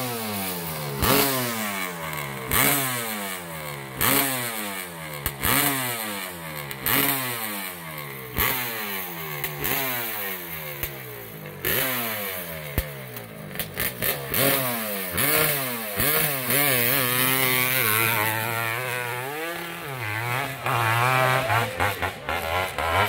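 A 600cc big-bore Honda CR500 two-stroke motorcycle at an AMA championship hillclimb revs over and over in loud, rising and falling surges, close by, ending in a sustained high-pitched scream.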